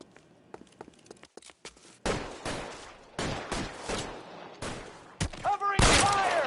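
Rapid gunfire from a shootout in LA Noire crackles in irregular bursts, sparse at first and then dense and loud, with a voice briefly shouting near the end.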